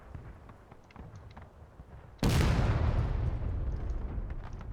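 Artillery guns firing in a Civil War-themed battle game, a single heavy boom bursting out of quiet background rumble and trailing into a long, loud rolling echo.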